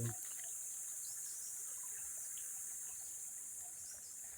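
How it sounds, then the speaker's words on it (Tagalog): Steady, soft rushing of a flowing river, a continuous hiss with faint trickles, heard from the riverbank a short distance away with no talking. "Ilog po yan."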